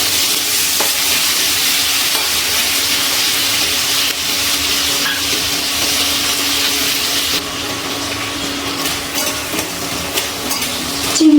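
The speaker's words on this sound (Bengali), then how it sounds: "হালকা ভেজে নেব।" Shrimp frying lightly in hot oil for a chayote squash curry: a loud, continuous crackling sizzle that holds for about eleven seconds, with faint scrapes and clinks over it and a slight drop in brightness partway through.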